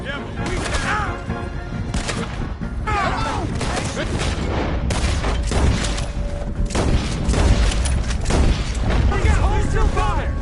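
Gunfire rattles in Red Dead Redemption II, repeated loud shots and bursts layered over a busy mix, with people talking throughout.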